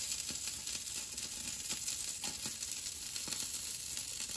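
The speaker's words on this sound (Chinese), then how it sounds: "烤到滋滋冒油。" A lamb leg roasting as its fat sizzles, a steady close hiss with scattered faint pops and crackles running throughout, soft and unbroken, with no voices.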